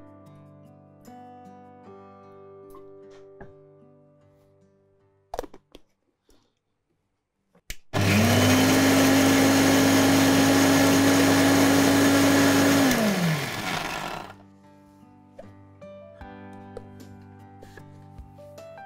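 An electric blender grinds ginger and garlic into paste with a little water, a loud steady whirring roar running for about five seconds before it cuts out, set between quieter kitchen clatter.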